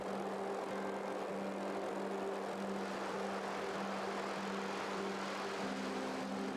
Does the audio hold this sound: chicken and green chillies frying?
no